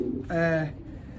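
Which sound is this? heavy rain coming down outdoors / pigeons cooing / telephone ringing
pigeons cooing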